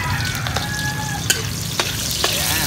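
Onions sizzle and fry in a hot pan, a loud, steady crackling hiss close up, with a few soft clicks of stirring scattered through it and no talk.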